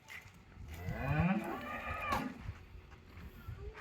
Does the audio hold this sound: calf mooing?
yes